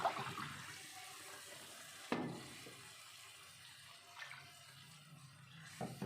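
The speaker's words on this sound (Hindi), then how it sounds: "ये मसाला तैयार हो गया और अब पानी डालने लगी हूँ।" Water splashes and pours into a pot of curry masala for ginger and garlic curry, with sharp bursts at the start and around two seconds, then quieter trickling and sloshing, faint and close.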